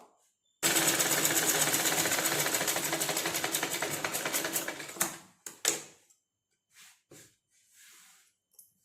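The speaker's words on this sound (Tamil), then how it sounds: "இதில் ஒரு 1/4 இன்ச்சுக்கு ஒரு ஸ்டிச் போட்டுருங்க" A sewing machine stitches a blouse patti fabric piece in one fast, continuous rattling run of about four seconds, close and loud, then stops, followed by a few short rustles and handling noises.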